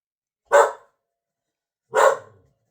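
A guard dog barks twice, two sharp, fairly close barks about a second and a half apart with silence around them.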